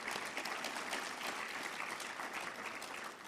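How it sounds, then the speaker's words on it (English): Demo day audience at a startup accelerator event applauds the donors, a full, even round of clapping from many people that holds steady throughout. "Let's give these donors a round of applause."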